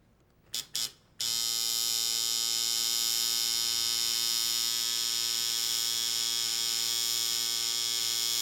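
A tattoo machine gives a few short buzzing bursts, then runs as a steady, close electric hum and buzz while a line is drawn on skin.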